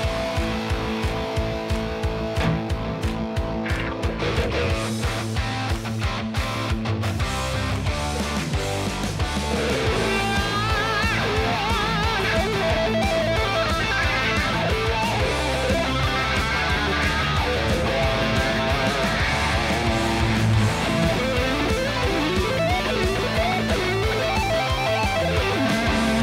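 FESLEY FST400M electric guitar in sunburst, played through a wah pedal and recorded directly into the camera. Loud, continuous playing with dense chords and notes fills the whole stretch, with no talking.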